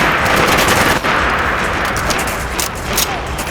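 Rapid automatic gunfire in the video game Fallout 4 rattles loud and close in a continuous burst lasting the whole stretch, with someone talking excitedly underneath.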